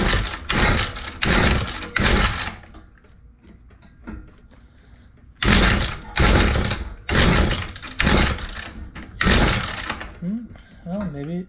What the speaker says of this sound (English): the goal here is gonna be, I don't know, 1 to 3 pulls, get it fired up, choke it.